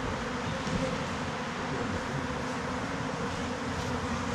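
Disturbed honeybees buzz inside a hive opened for a chilly winter inspection, a steady, dense hum throughout at moderate loudness without speech.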